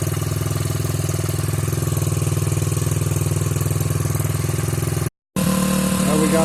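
A Suzuki DR-Z70 dirt bike, freshly fitted with a new carburetor and unrun for years, idles close with a steady rapid putter, briefly cutting out before picking back up.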